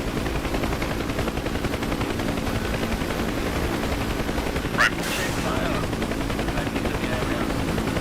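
Apache AH-64D helicopter in DCS World, a rapid crackling stream of gunfire-like bursts over a rotor drone, with a sharp hissing whoosh of a rocket launching midway.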